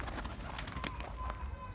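Pigeons cooing close by as a runaway bird is herded back into its coop, soft low coos repeating under a person's coaxing voice.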